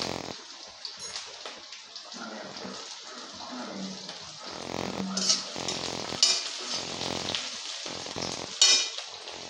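Green chillies and potatoes fry in a pan, a continuous hot-oil sizzle with bursts of crackle and stirring, and no voices.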